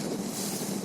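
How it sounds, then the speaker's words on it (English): A yacht runs across open water off Dubai, a constant roar of rushing water and wind buffeting the microphone, loud and unbroken. "A long drive in the boat."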